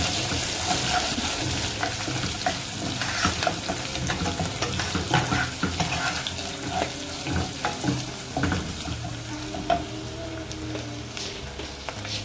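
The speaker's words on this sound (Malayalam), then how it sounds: "തേങ്ങാപ്പീര എല്ലാം മൂത്ത് വരുന്നുണ്ട്" A steady dry sizzle with scraping stir strokes, like grated coconut roasting in a pan, continuous and close with no talking.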